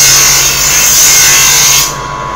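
A grinding machine running in a knife forging workshop in the Da Sy blacksmith village, Hanoi, a loud steady high whine with a low hum that cuts off abruptly near the end.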